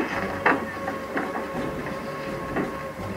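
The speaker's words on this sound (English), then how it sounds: "The conductor, William Fuller, saw the train pulling out without him" A Civil War-era steam locomotive pulls out of a station, its wheels giving a steady rhythmic clatter under a constant mechanical hiss.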